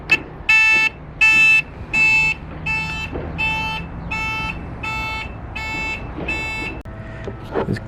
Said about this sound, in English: I also have this Piezo buzzer to remind me to turn off my lights.